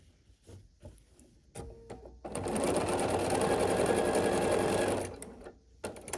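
A sewing machine runs in one continuous close burst of about three seconds while stitching a background sashing strip onto a layer cake quilt top, preceded and followed by handling clicks and fabric shuffling.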